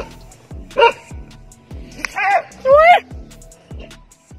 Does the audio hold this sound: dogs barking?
yes